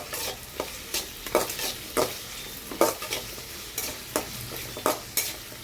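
Onions sizzling in a hot pan while a spoon stirs them, steady frying hiss punctuated by regular scraping strokes about once a second, close and clear with no talking.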